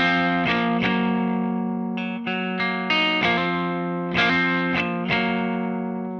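Electric guitar through a JCM 800 amp emulation on a slightly cranked clean tone, ringing chords struck in a loose rhythm with sustained harmonic-rich decay and light effects, played alone.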